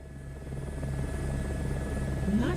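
Rhythmic rotor chop and turbine hum of a helicopter in Microsoft Flight Simulator, steady and fairly loud, with a brief rising chirp near the end and no talk.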